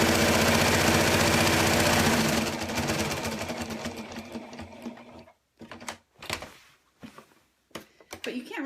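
A sewing machine stitching a fleece blanket runs in a fast, steady whir, then slows into short stop-start bursts of stitching with pauses between, close and loud, under a little talk.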